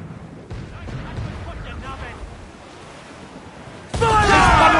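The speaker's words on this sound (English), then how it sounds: "They're firing on us." Naval cannon fire at sea, a loud broadband boom erupting near the end over a rumbling ocean backdrop, following a stretch of low wind and wave noise while voices shout commands.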